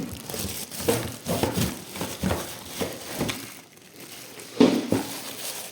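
The plastic bag packaging of a Rotex RKT84-GS electric kettle crinkles and rustles in irregular bursts close up, with a couple of louder crunches and a quiet pause midway.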